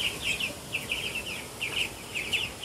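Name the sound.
chickens clucking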